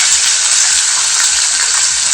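Spinach fries in oil over a low flame, giving a loud, constant hissing sizzle with faint bubbling underneath and no voices.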